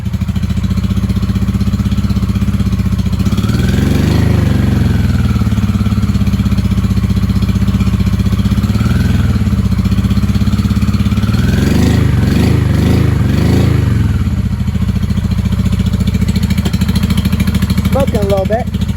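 A 1995 Honda Shadow VLX 600 (VT600CD) motorcycle engine with freshly serviced carburetors runs steadily and loudly throughout, holding a constant low rumble with a couple of throttle rises, while a person talks over it.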